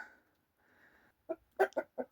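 A few hens cluck in a farm shed, a short run of four close, distinct clucks after a brief faint murmur.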